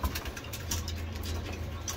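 Soft cooing and fluttering of many pigeons indoors in a loft, a steady low murmur with light pattering and scattered wing sounds.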